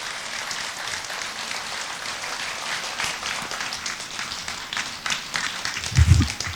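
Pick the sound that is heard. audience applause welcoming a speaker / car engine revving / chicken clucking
audience applause welcoming a speaker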